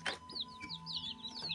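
High, thin chick peeps repeat in quick succession over a steady low hum, fairly close and continuous.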